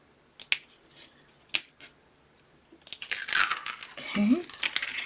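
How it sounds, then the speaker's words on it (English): Score tape peeled away from chipboard: a few sharp taps and clicks first, then a sustained, close crinkly tearing and rustling that runs to the end. "I'm going to go ahead and take off all of my score tape around my chipboard."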